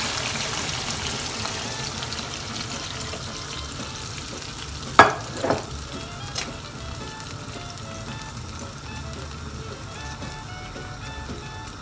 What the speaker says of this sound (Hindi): अब इसमें मैं पानी शामिल करूँगी।